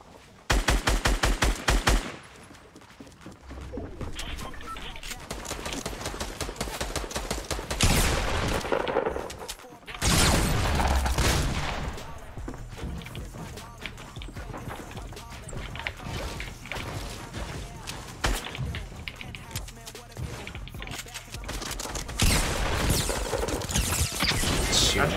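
Fortnite gunfire in rapid automatic bursts and repeated single shots, loud and close, with crashes and whooshes mixed in across a long, almost unbroken exchange.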